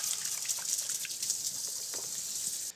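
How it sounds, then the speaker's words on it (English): Water gushing steadily from a kitchen tap as hands are washed, a close continuous hiss with small splashes that cuts off abruptly at the end. "I'm gonna give my hands a little wash."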